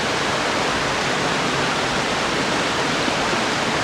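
A waterfall in woodland with fallen trees nearby: a loud, steady, close rush of falling water with no other sounds.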